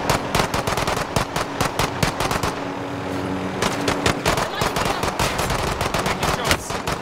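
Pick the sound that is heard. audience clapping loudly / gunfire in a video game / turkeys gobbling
gunfire in a video game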